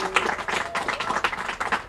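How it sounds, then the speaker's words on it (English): An audience at a community in-fill housing event claps and applauds together, a loud, dense burst of many hands close by. "So give them a round of applause one last time."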